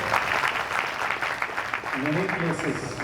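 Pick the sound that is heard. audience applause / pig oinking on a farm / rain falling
audience applause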